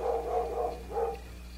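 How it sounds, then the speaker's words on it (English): A dog barks indoors somewhere in the background, two or three muffled barks over a steady low hum, faint and distant. "Our dog is barking her head off."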